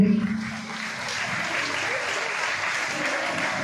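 Steady audience applause at a prize presentation during an awareness programme in Chennai, a sustained wash of clapping from a crowd that holds evenly throughout, with a brief voice at the start.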